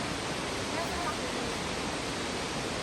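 Tumpak Sewu waterfall in Java, running with low water, pours with a constant, loud, hissing roar that stays close and unbroken throughout.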